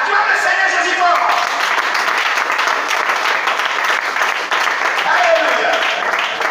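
A church congregation breaks into loud, sustained applause that fills the room for several seconds, with voices calling out over the clapping.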